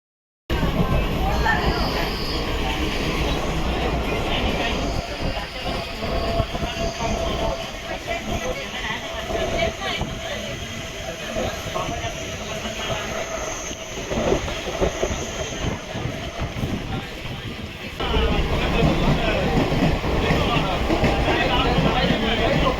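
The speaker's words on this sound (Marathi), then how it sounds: "आता मी ट्रेनमध्ये बसलो आणि ही ना पनवेल ते ठाणा ट्रेन आहे" Inside a moving Panvel–Thane local train, a continuous rumble of wheels and carriage noise fills the compartment, with a steady roar and occasional rattles as the train runs, and faint voices blend in.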